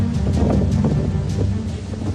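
Strong storm wind from Cyclone Biparjoy in Dwarka, Gujarat, a loud, steady roar buffeting the microphone with gusty swells throughout.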